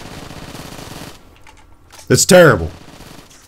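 AK rifle fire in a video game rattles in a fast, close burst of rapid shots for about a second, then quiet game ambience before someone speaks loudly.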